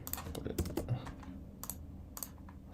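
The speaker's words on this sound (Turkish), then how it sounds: "Buraya alttan sonrasında buraya da aynı şekilde kodu yazıyorum." Code is typed on a computer keyboard in quick, irregular bursts of close, crisp key clicks with short pauses between groups, recorded quietly.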